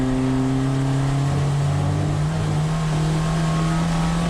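VW Jetta GLI Super Touring race car engine holding a steady, loud drone on track at Thunder Hill Raceway, pitch rising only slowly in fourth gear as it pulls with little torque.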